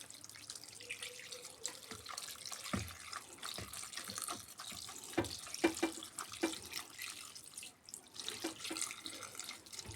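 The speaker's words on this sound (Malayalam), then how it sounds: "പാകത്തിന് വെള്ളം ഒഴിച്ച് നമുക്ക് വേവിക്കാൻ വയ്ക്കാം." Water runs steadily into a pot of beef being set up to cook for beef curry, with a continuous splashing pour and scattered drips and clinks of the vessel throughout. It sounds fairly faint and close, with no talk.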